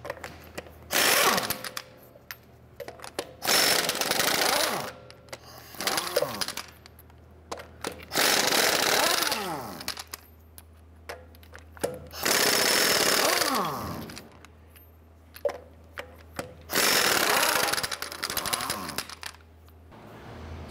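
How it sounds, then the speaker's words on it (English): Impact wrench removing lug nuts with a 22 mm socket from a wheel of a 2011-2018 Ram 1500 pickup, in repeated loud bursts of hammering rattle separated by short pauses, along with clinks of nuts and tool handling. "let's go ahead and remove our lug nuts"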